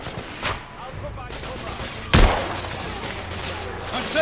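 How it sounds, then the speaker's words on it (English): Heavy gunfire in The Order: 1886 video game, two sharp blasts among a battle din, the second louder and closer, with shouted voices mixed in. "I'm taking heavy fire!"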